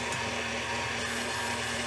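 Steady whirring drone of an electric mixer beating egg whites with cocoa and sugar, a constant close motor hum with no pauses.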